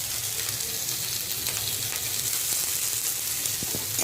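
Cauliflower, green chilli and carrot fry in a pan for an egg bhujia while being gently stirred, giving a steady, close, continuous sizzle with no talking.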